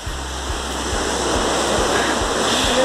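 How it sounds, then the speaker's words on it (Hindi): A noisy Himalayan waterfall on the Tosh-Kutla trek in Himachal Pradesh roars as a steady, loud, broadband rush of falling water, with no talk over it. "टू मच नॉइज, झरना शांत हो जाओ"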